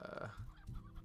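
Hens cluck in the video game Slime Rancher, a soft run of short, repeated clucks, fairly faint and close, with no talking over them.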